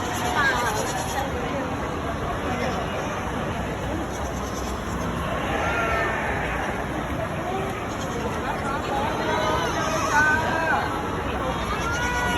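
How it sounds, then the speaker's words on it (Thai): West African pygmy goats and a flock of sheep bleat at a farm, their calls mixing into a constant din of crowd chatter and people talking nearby. "แพะพิกมี่"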